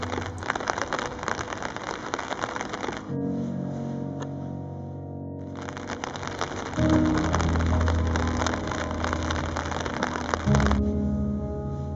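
Steady rain patters and hisses on a hard surface, continuous and fairly loud, with a low rumble shifting underneath partway through.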